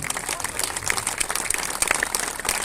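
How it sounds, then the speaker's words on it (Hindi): A panchayat crowd at a Hindu mahapanchayat gathering breaks into strong applause, a continuous patter of many hands with scattered sharper claps, held at an even level throughout. "एक बार जोरदार ताली इनके लिए।"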